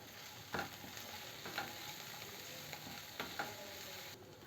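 Onions, green chillies and grated ginger sauté in a pan with a steady soft sizzle, broken by a few sharp clinks and scrapes of a spoon stirring against the metal, and no voices.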